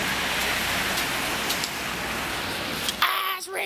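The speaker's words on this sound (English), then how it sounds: "Ah, it's raining." Steady rain patters on a surface with a constant wash of noise, ending in a brief clunk and shuffle.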